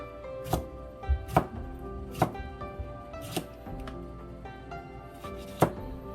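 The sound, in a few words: knife chopping a fresh cucumber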